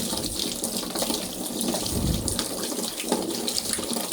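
Steady rush of water pouring from a faucet into a sink, continuous and close, with no voices.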